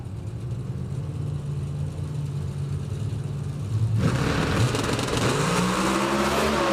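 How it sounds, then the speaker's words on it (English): Drag racing cars in a finals pass: a low engine idle rumble gives way to a sudden loud launch, engines roaring and revving upward as they accelerate hard down the strip. "Greg Stanfield goes 7:07 at 193 miles per hour to win it."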